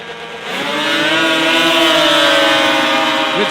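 Supermodified race cars roar away at the start of a race, engines rising together into a loud sustained wail that swells after a quiet first half-second and holds steady.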